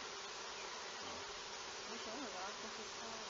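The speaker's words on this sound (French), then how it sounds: "les abeilles en cours d'essaimage sont un peu folles" Swarming honey bees, crops full of honey, fill the air with a dense, continuous buzzing hum. Individual wings whine close by over the steady mass of sound.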